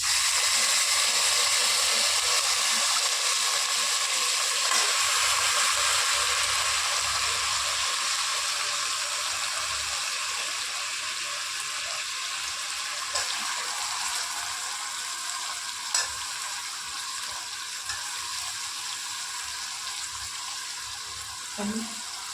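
Washed mutton hits a frying onion-tomato masala for mutton curry, producing a continuous close sizzle with occasional clicks and scrapes of stirring over about twenty seconds.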